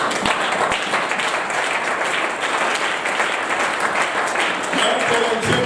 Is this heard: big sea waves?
no